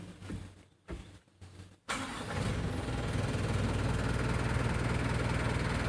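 A Mitsubishi Canter HDL 136 PS truck engine cranks in a few short bursts, then catches and settles into a steady, loud diesel idle close by.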